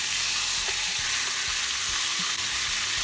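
A carpet bag steak sizzling loudly in a tight-fitting frying pan, a dense continuous hiss with faint pops and a few soft knocks, no voices.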